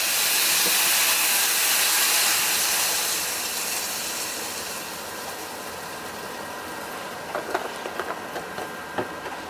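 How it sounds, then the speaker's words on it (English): Beef broth poured into the hot pan used to sear a ribeye steak gives a loud, steady rush of steam and hiss that slowly eases off, with a few faint clinks near the end. "And then you're going to add your beef broth."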